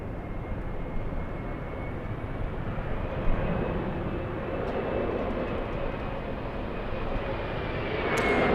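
An airliner lands at Los Angeles International Airport, its broad engine roar rumbling steadily at moderate distance and building slightly toward the end.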